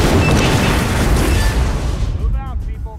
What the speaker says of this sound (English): get to a safe distance, which is here apparently, it's not that far. And detonate.